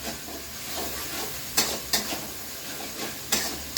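Spice paste sautés in oil in a pan while dinner is cooked at home: a steady, moderate sizzling hiss runs throughout, with a few sharp clinks of a utensil against the pan.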